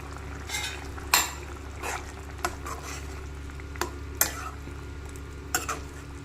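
Scored boiled eggs are added to curry in a pan, with a low steady simmer under intermittent clinks and scrapes of a utensil against the pan.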